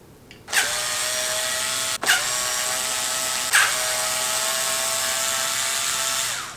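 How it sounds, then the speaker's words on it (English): A power drill unscrews the neck screws of a Charvel Pro Mod San Dimas electric guitar, running in a loud, sustained whine with two brief stops and restarts, close by and with no talking. "let me unscrew this neck real quick"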